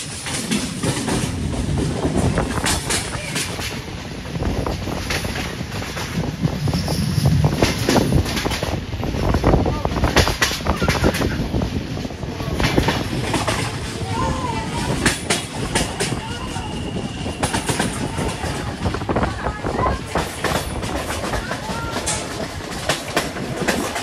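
A locomotive-hauled passenger train running toward Galați, Romania, rumbles steadily and loudly throughout with rhythmic clickety-clack of wheels on rail joints and wind noise, as heard from on board.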